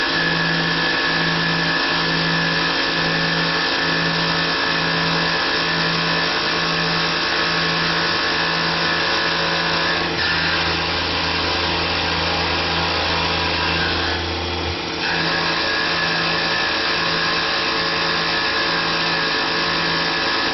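A Tormach PCNC 1100 CNC mill makes a finish pass at 3000 RPM and 20 inches per minute, giving a steady, loud whine with an even tone and a regular pulsing hum underneath for the whole stretch.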